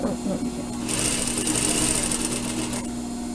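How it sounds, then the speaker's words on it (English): A sewing machine runs a quick burst of stitching along the seam of a surgical scrub cap, a steady high-pitched whir lasting about two seconds, close and clear, with someone talking around it. "So now I'm going to stitch."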